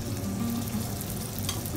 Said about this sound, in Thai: ตอนนี้เราจะเริ่มทอดหมูก้อนแล้วนะคะ